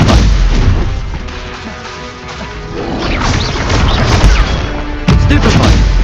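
Loud, dense spell blasts and crashes from combat in the video game Hogwarts Legacy, one booming impact after another with almost no gap between them, and a shouting voice mixed into the din.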